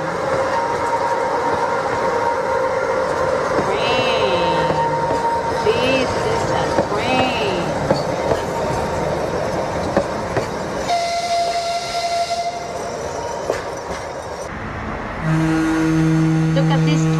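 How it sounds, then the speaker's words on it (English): A long train passes on the rails with rumbling and clatter, squealing tones and a brief horn-like blast, while people talk over it. "This is a very long train!"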